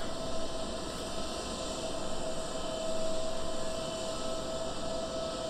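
Airliner jet engines roar through a takeoff roll in a Roblox flight simulator with a Swiss Airlines jet, a steady synthetic whine and hiss with a sustained tone, even and unbroken at moderate level.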